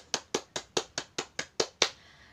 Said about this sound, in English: give applause to us